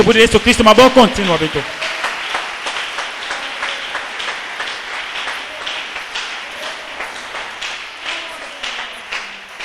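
A church congregation applauding during a sermon, with a brief voice at the start giving way to a steady wash of rhythmic clapping from many hands that continues evenly and moderately loud.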